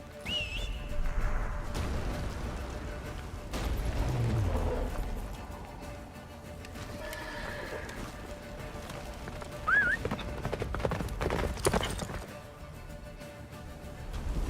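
Geralt's horse Roach gallops through a blizzard in the Witcher 3 video game, with muffled, rumbling hoofbeats under wind and game noise, a brief whistle and a faint whinny partway through.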